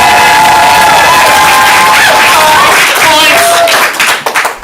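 Blue team's audience at a comedy showcase bursts into loud applause and cheering, a dense crowd roar with shouts that holds steady for several seconds, then fades and breaks up at the end.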